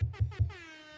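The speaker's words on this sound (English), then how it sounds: "you get an air horn though" Three quick blasts of an air horn in rapid succession, the last ringing out and fading, loud and close.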